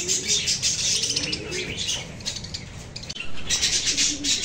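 Busy, continuous chirping and twittering from several parakeets, close by, with some mechanical rattling mixed in.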